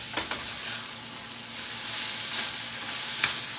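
Meat sizzles and crackles steadily in a pan for a turkey stew, with a soft, continuous hiss and occasional stirring scrapes, quiet and close, with no talking.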